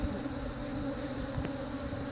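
Honey bees buzz steadily at their hive, a dense continuous drone close by with no pauses, a few brief louder passes of individual bees over the swarm.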